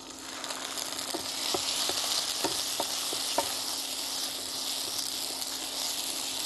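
Ginger-garlic paste and onion paste frying with sautéed onions in a pan, a continuous bright sizzle with repeated scraping strokes of a spoon at a fairly regular pace, close and alone.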